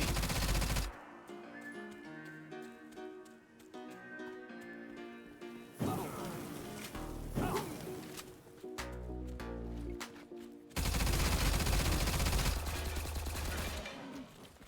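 A-545 assault rifle firing in the online shooter STALCRAFT, with loud bursts of automatic fire in several clusters over steady background music, the heaviest volley near the end.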